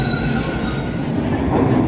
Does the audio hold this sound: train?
yes